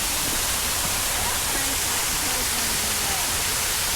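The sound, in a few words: waterfall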